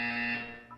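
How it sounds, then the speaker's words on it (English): A buzzer tone from the video game Portal 2 sounds once, steady and fairly faint, before tapering off with a brief chirp at the end. "When you hear the buzzer, look down at the floor."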